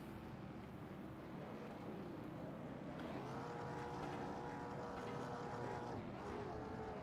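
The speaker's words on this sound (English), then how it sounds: "you can hear all these drivers giving it a little bit of a rev in celebration of Sabelski's win" Race car engines in a racing video game rev together in celebration after a win at North Wilkesboro oval, a steady dense engine drone with rising and falling pitch sweeps, fairly quiet and continuous.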